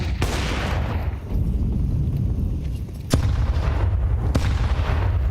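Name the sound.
grenade barrage exploding in a Counter-Strike video game match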